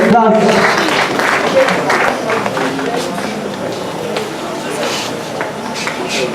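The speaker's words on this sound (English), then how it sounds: "Let's give him a round of applause." A crowd claps in a burst of applause that starts loud and slowly thins out, with some voices mixed into the clapping.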